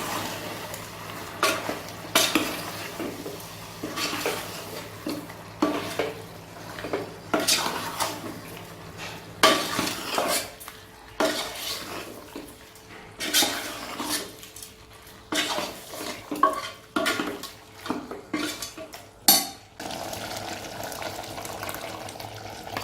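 A spoon scrapes and clinks inside a cooking pot as mutton gravy is stirred, with faint, irregular strokes and soft bubbling repeating quietly throughout.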